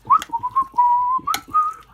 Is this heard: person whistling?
yes